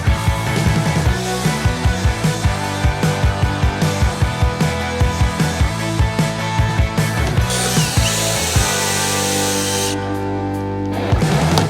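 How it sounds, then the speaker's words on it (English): A DeWalt battery-powered brushless drill whirs steadily and loudly throughout, its motor pitch holding constant with rapid rhythmic clicking, no voices present. "Power drill is this battery-powered brushless drill from DeWalt."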